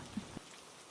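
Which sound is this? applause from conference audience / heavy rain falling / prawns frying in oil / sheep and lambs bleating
heavy rain falling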